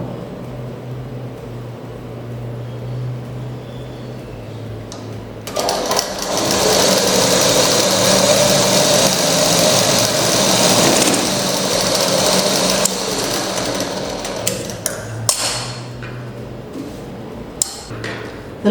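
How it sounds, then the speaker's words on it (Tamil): A sewing machine runs stitching pleats on the wrong side of fabric, starting with a low idle hum, then a loud, steady, buzzing whir for about seven seconds before slowing into a few clicks and short bursts. "இது வந்து ராங் சைடில் நம்ம தையல் போட்டுக்கணும்"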